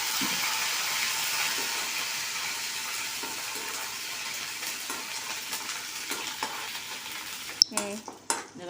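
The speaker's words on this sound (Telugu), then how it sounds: "చూడండి మంచిగా కరివేపాకు కూడా బాగా ఫ్రై అయిపోయింది కదా" Mustard seeds, cumin and curry leaves crackle and hiss in hot oil for a brinjal curd chutney, a continuous close sizzle that fades slightly before a few sharp utensil clatters near the end.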